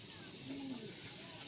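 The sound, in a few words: Andhra pigeons cooing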